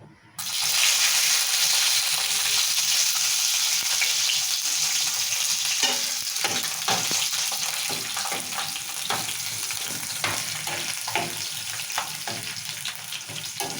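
Tadka of cumin, mustard seeds, dried red chillies, curry leaves and garlic for puntikura (gongura) chutney, sizzling and spitting steadily in hot oil from start to finish, loud and close, with scattered crackles and stirring scrapes and no talking.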